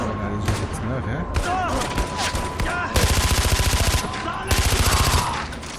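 Rapid bursts of automatic gunfire from a weapon in the shooter Far Cry 4, two loud sustained volleys of tightly spaced shots over game sounds, with someone talking between and around them.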